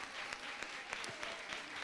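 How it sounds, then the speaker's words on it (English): A room of listeners claps for a speaker at an industry talk, a brief burst of applause with distinct individual claps standing out from the crowd. "Round of applause for Lebogang."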